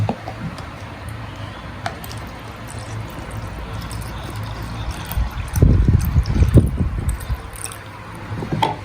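Liquid pours and splashes in a short burst partway through, with quieter drips and trickling around it.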